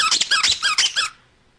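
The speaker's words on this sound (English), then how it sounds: "If you squeeze the tentacles, they squeak." A squeaky octopus dog toy is squeezed by its tentacles, giving five or six quick, shrill squeaks in a rapid rhythm, loud and close, then silence.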